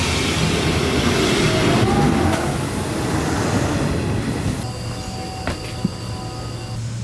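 A train rumbles and rolls steadily, loud and close, with faint metallic squeals and a few clanks as it pulls away from Roskilde Station.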